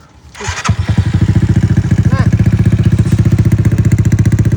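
A modified motorcycle engine with retuned jetting and a changed exhaust pipe starts and settles into a loud, close, rapid thumping idle, with a person talking briefly.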